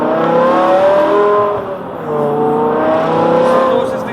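A modified 550 bhp BMW E60 M5 V10 revs loudly and close, its high-pitched wail rising, dipping and climbing again in smooth sweeps with no voices over it.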